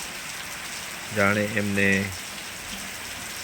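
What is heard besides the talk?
rain falling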